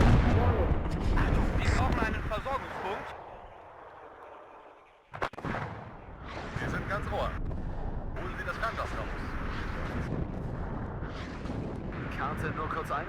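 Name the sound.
mortar artillery fire in video game WARNO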